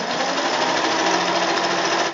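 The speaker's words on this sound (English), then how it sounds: "Now that you've pinned the strips, you can sew them both together." A sewing machine stitches two pinned fabric strips together in one steady, rapid, close run lasting about two seconds before stopping abruptly.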